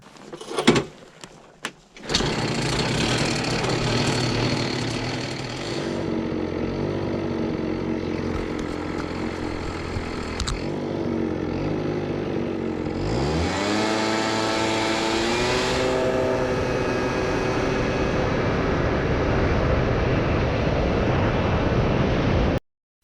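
A modified scooter engine, fitted with 3-gram variator rollers, a stock belt, a thinner shim and a lathe-turned clutch bell, revs hard and steadily with a brief bog before the pitch climbs again, loud and close with no talking.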